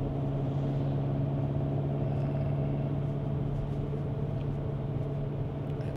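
Steady cabin road noise from an Xpeng G6 electric car taking a long continuous left curve, a constant low rumble with no speech.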